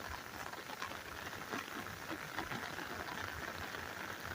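Rain patters steadily in a cemetery by a cathedral, a soft, even hiss with faint scattered drops, fairly quiet and uninterrupted, with no talking over it.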